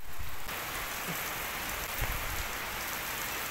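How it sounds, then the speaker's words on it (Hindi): Steady rain pattering on a surface, a continuous soft hiss with a few scattered drops, fairly quiet and without voices. "अब वापस बारिश हो गई।"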